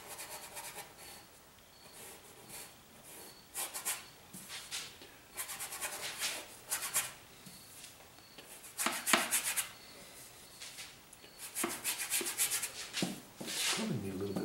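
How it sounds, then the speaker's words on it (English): A palette knife or scraper rasps built-up paint off a canvas in irregular bursts of dry scratching, close and fairly quiet, with short pauses between strokes. "I've got this lip here, some buildup paint, and I gotta scrape that off so it's easier to get down in there."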